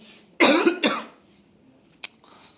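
Two harsh, close coughs in quick succession, then after a short pause a single brief, sharp cough.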